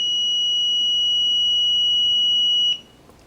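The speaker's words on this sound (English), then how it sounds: "We had an audible sound, which means we had continuity." Multimeter continuity test producing one steady, piercing electronic beep held for almost three seconds before cutting off abruptly, checking the windings of a rewound electric motor.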